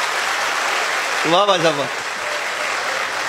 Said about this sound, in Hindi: एक बार इकट्ठे बजाओ सारे ताली, जोरदार